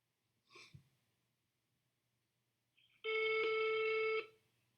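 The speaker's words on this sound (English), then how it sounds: "Let me get on the phone with her." A telephone rings during a phone call, one loud electronic ring burst lasting about a second after a faint breath-like sound in a quiet room.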